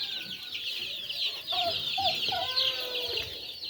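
Chickens cluck in a few short, soft calls on a poultry farm, over a steady high hiss of background insects or birds.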